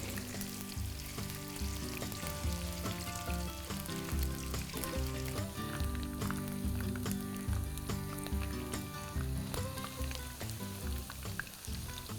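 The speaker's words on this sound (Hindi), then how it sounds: "आलू को सरसों के तेल में तल लेना है" Potato pieces fry in hot mustard oil with a steady, dense sizzle and crackle throughout, close and continuous, with occasional soft stirring sounds and no talking.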